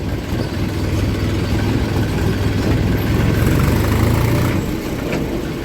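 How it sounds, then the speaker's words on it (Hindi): A 3-cylinder Escort 435 tractor creeps along slowly in second gear, its engine giving a loud, steady, close low rumble throughout with no voices. "दूसरे गियर में ट्रैक्टर दूसरे गियर में धीरे धीरे चल रहा है"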